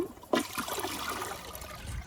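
An American Standard Space Saver Cadet toilet flushes close by. A sudden rush of water is followed by a steady gurgling trickle as the bowl refills.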